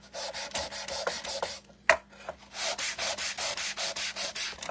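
Rhythmic back-and-forth rasping strokes of sandpaper rubbing scrap wood for a craft house and barn, close and fairly quiet, with a brief pause and a small knock midway.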